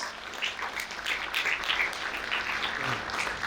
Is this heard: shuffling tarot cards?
no